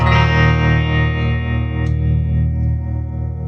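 An electric guitar through a 1978 Fender Princeton Reverb amp holds a thick, sustained, slightly distorted chord with a shimmering chorus-like wobble and reverb tail, steady and loud with no talking.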